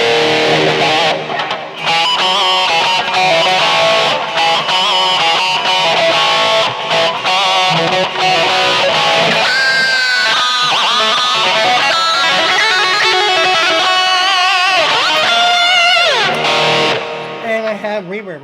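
Electric guitar with overdrive distortion dialed in through a BOSS eBand JS-10 on a high-gain stack model with subtle delay and reverb, playing busy riffs and bends loudly and continuously for most of the passage.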